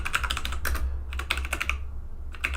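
Rapid keystrokes on a computer keyboard typing an npm install command, close and crisp, in quick bursts with a brief pause before a final few taps.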